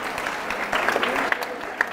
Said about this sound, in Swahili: Anaitwa Mbunge Heza, makofi kwake.